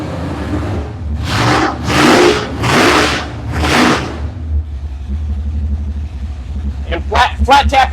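A 454 V8 with a flat tappet cam runs on a dyno at partial load, revving up in several loud, rising surges before settling to a steady, close idle rumble.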